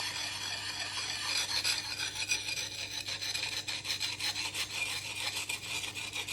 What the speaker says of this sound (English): it might be easier to use the narrow part of the sharpening stone